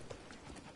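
Horse hooves clip-clopping at a steady walking rhythm in the video game Crimson Desert, fairly faint and brief with no talk over it.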